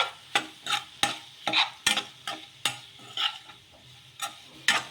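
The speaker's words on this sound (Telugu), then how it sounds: "ఇలా ఇవన్నీ కూడా వేసేసుకొని ఒకసారి బాగా కలిపేసుకోవాలి మొత్తం కలిసేలాగా" A spice mixture with added balls stirred in a pan, a series of sharp, distinct scrapes and taps about every half second over a faint sizzle, close and clear, with no talk.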